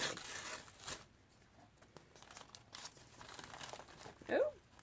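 Tape being peeled off a plant shipping package, heard as soft crinkling and rustling of packaging close by with a brief sharper rip near the end, while someone talks quietly.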